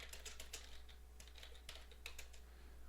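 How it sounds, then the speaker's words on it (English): Typing on a computer keyboard: a fast, irregular run of close, crisp key clicks that continues steadily throughout, with no voices. "if we type some more text or make some other kind of change"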